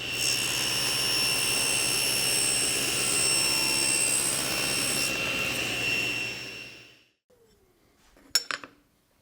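A table saw whines at full speed through a cut for about seven seconds, then the blade spins down and stops, leaving near silence broken by a faint clink of shop noise.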